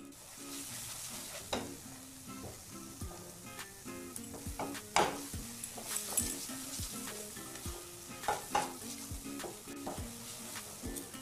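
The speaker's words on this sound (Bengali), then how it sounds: "এবার এখানে খুব অল্প পরিমাণ চিনি মিক্স করে নিচ্ছি।" Mango barfi mixture, thickened and mixed with a little sugar, stirred and scraped in a hot pan, giving a steady sizzle with repeated spoon scrapes and clinks.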